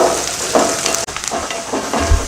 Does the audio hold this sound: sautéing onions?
yes